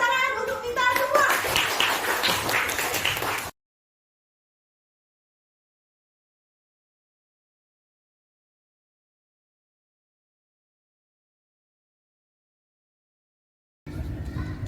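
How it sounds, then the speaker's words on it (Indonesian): A group of schoolchildren claps together for about three and a half seconds, with voices mixed in at the start. Silence follows, then a brief burst of sound returns at the very end. "Tepuk tangan untuk kita semua."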